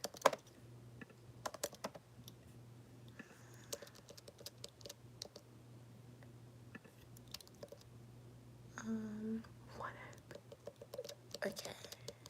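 Close, quiet computer keyboard typing comes in soft, irregular clicks and clacks, with a low steady hum underneath and brief murmured speech near the end.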